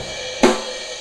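A single crash cymbal hit in a praise and worship drumming setting, one bright splashy burst that decays quickly rather than a sustained ride pattern, heard alone.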